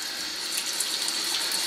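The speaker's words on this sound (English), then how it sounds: "So we're going to stick it underneath the faucet" Tap water runs steadily from a faucet over mica powder as it is rinsed and scrubbed, a continuous close hiss with no voices.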